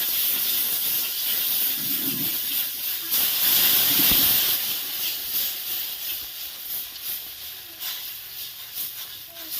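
Water poured onto hot, oil-fried masala for a green banana kofta curry bursts into a loud, broad steam hiss that swells, then settles into a lighter sputtering sizzle; no talk.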